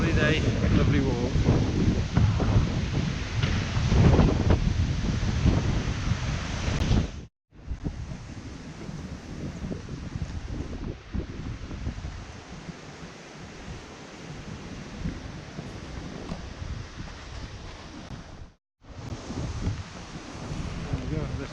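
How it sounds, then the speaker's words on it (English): Strong wind buffeting the microphone in continuous gusty roars, with brief dropouts, loud and close throughout, on a woodland path near Betws-y-Coed, Wales. "A bit breezy."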